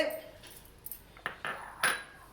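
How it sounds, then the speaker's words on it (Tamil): Chopped vegetables such as beans, carrot, cabbage and knol-khol tumble into a cooking pot for home-style vegetable soup, giving a few sharp clinks and clatters of metal against metal, close and fairly soft, with no talk. "இந்த கட் பண்ணி வச்ச காய்கறி எல்லாம் இதில் சேர்த்துக்கணுங்க"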